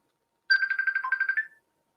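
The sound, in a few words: phone ringtone from an incoming Facebook call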